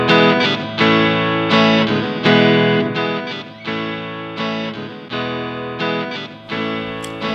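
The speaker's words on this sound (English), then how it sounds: "And our loop works, and we can jam over it." A looped blues guitar phrase with distortion and effects plays back from a looper pedal, a steady, loud repeating riff in regular bars with no voices over it.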